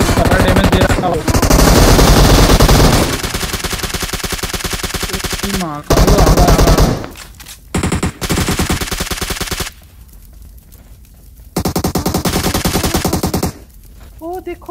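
Rapid automatic gunfire and heavy shotgun-like blasts in a mobile battle-royale shootout, loud bursts broken by short pauses, with a few quieter gaps and brief voices mixed in.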